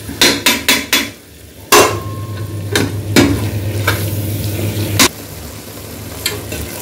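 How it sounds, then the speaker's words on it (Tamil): Chili-powder masala for chicken biryani frying and being stirred in oil in a pan, with loud scraping clanks of the spoon, a quick run of four strikes, then scattered knocks over a steady sizzle, and no talking. "எண்ணெயில் நல்லா வதங்கணும்"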